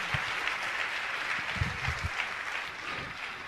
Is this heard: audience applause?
yes